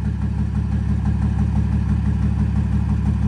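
A 2005 Ford F250 XLT with a tuned 509 hp engine and a straight 4-inch exhaust with a 5-inch angled tip idles nearby, a loud, deep, steady rumble with a fast lumpy pulse.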